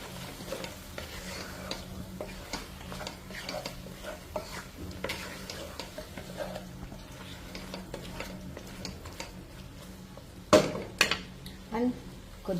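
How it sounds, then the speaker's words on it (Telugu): Ginger garlic paste frying in a pan for homemade biryani, a steady low sizzle with frequent stirring scrapes throughout and a couple of louder utensil knocks near the end. "సో ఇప్పుడు ఈ జింజర్ గార్లిక్ పేస్ట్ అనేది పచ్చివాసన పోయేంత వరకు వేయించుకోవాలి."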